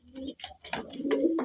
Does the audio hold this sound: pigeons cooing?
yes